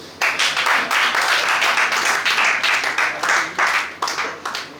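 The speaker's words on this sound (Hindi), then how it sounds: "आशिमा के लिए तालियां।" Audience members clap for a woman named Ashima, a lively round of close, crisp applause that rises sharply, keeps a brisk uneven rhythm and thins toward the end.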